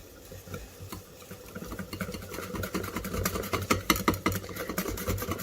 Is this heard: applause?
no